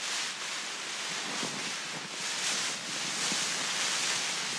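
Wind buffets a wild mountain camp on Scafell Pike in the Lake District: a loud, continuous roaring rush that swells and eases in slow gusts, with faint low thumps and no speech.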